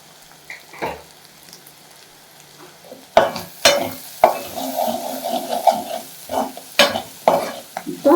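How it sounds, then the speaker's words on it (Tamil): Goat blood and intestines stirred in a frying pan, with a quiet opening giving way to loud, close sizzling and repeated scraping stirs of a utensil against the pan. "அந்த ரத்தத்தை ஊற்றி கிண்டுவோம்"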